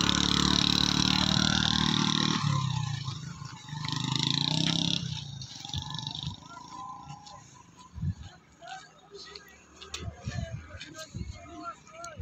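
Motorcycles labor along a rough track to Chapri Dam near Mianwali, their loud engines revving hard at first before cutting out, followed by knocks, scuffs and people talking.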